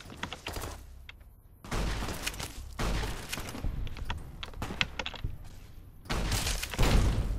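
Gunfire bursts and explosions in the video game Fallout New Vegas, loud dense crackling volleys with heavier booming surges, continuous over several seconds with no talk.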